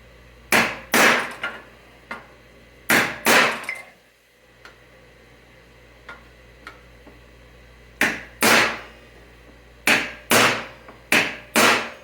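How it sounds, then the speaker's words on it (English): A hammer taps a metal panel into a groove on the front torque box of a 1965 Thunderbird convertible, striking in loud, close clusters of two or three sharp blows separated by quieter pauses with a few faint taps. "Tap it in a little bit like that."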